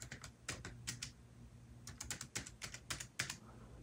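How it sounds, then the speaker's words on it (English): Light, crisp key taps on a small Palm Portable Keyboard in an uneven rhythm, close and quiet, with no talking. "Let's open a text box and start typing."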